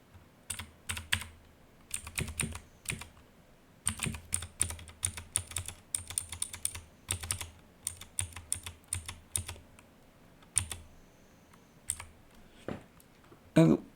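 Computer keyboard keys clatter as someone types program code, coming in quick bursts of clicks separated by short pauses, close and fairly crisp with no talking.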